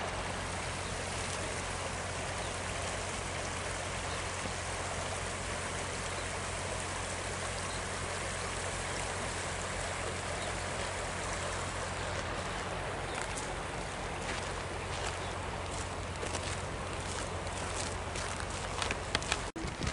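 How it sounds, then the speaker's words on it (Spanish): Water rushing steadily in a stream swollen by storm rain, a loud continuous broadband roar close up, with a few sharp crackles near the end. "Como habrá llovido por ahí, porque está con tormentas, pues mira, viene bastante agua."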